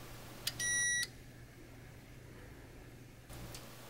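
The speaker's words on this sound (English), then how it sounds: "an audio output that lets you listen to the frequency response of the vibrating wire" A DT80 data logger's audio output sounds the frequency of a vibrating wire sensor, a short loud tonal beep after a click, then quiet hum and a softer burst near the end.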